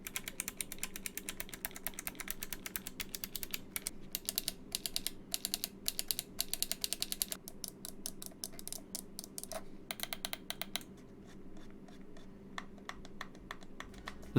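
Razer Tartarus v2 gamepad keys clacking in quick, close bursts of rapid presses, dense at first, then thinning into sparser clicks and pauses over a faint background hum.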